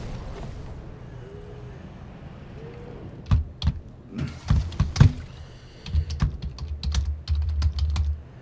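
Computer keyboard typing during a Dark Souls 3 gaming session: a burst of sharp, close key clicks and clacks in irregular clusters over low background game noise, with no speech.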